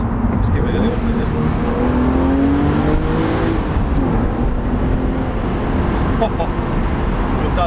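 An Alpina Roadster S with its engine revving: a steady, loud engine drone with rising and falling tonal sweeps as the revs climb and settle, continuous and close throughout.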